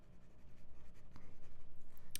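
An Aurora Optima fountain pen with an italic nib and ebonite feed scratches across paper in quick, rhythmic strokes, faint and close, with a steady pulse of pen movements and no talk.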